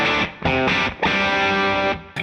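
A Les Paul played on its bridge pickup through the clean channel of a Mesa Boogie Rectifier amplifier, set just on the verge of breakup, rings out in a few strummed chords with a slightly gritty tone, close and loud.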